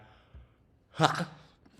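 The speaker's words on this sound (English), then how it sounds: "Getting tired now, see? Yawning." One person yawns: a short breathy intake, then a louder drawn-out voiced exhale that tapers off, heard close up and on its own.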